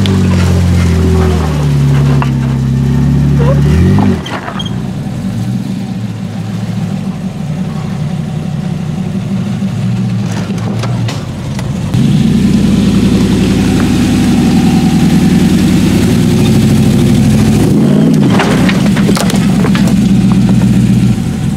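Jeep engine idling and revving as it climbs an off-road obstacle at an off-road park, a steady loud drone that surges in a few distinct revs, with voices talking faintly underneath.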